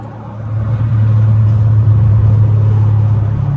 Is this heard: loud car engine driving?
yes